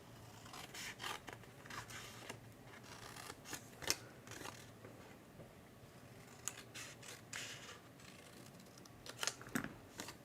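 Scissors snipping away sections of cardstock for a treat box, a faint close run of quick irregular cuts mixed with paper rustling and rubbing.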